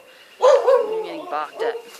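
A dog barks a few times nearby, the barks mixed with and partly under a person's speaking voice.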